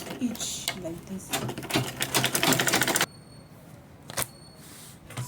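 A sewing machine runs in fast mechanical bursts while top stitching the four sides of a fabric purse organizer bag, the whirring stopping about halfway, followed by faint clicks and a sharp tap, with a voice talking throughout.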